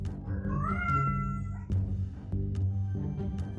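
Vega the cat meows in a series of clear, close calls with a rising, drawn-out cry near the start, followed by shorter meows over a steady low background hum.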